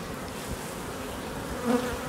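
Steady insect buzzing from many honeybees at a hive, some carrying yellow pollen, a continuous close drone with a brief louder swell near the end.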